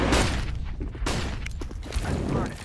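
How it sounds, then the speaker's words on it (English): A flashbang grenade goes off in a competitive shooter game, producing sharp bursts and thumps among other in-game gunfire, with a player's voice heard briefly. "Throwing flashbang."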